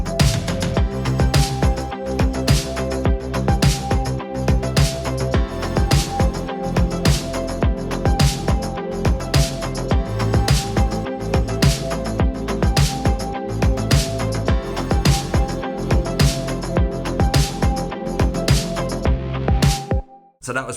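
Full electronic drum beat in a production, with steady kick, claps, wine-glass tone, wood block and upbeat rim clicks over sustained tones, closing on a tom fill into the chorus before a brief stop.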